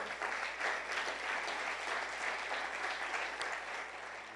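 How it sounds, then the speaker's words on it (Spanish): Congregation at a Tuesday church service claps for the Lord, a soft, steady, distant patter of many hands sustained throughout and tapering slightly at the end. "Damos un aplauso al Señor."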